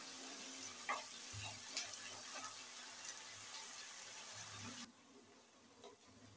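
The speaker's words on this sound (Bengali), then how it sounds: "আদা রসুনটা দিয়ে ভালো করে কষিয়ে নিতে হবে" Ginger garlic paste sizzles steadily in a hot pan while being cooked down for Bengali begun bahar, a continuous close frying hiss with occasional crackles and faint stirring, quieter near the end.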